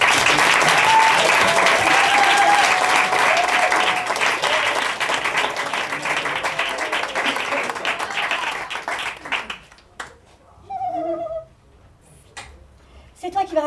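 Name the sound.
audience applause at improv festival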